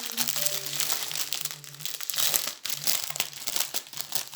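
Plastic packaging for diamond painting diamonds crinkles and rustles continuously in close-up hands, dense crackling handled right at the microphone, over a low background tone.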